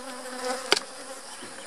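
Honeybees drone steadily at an opened hive during a hive split, a close, soft buzzing broken by one sharp brief tap.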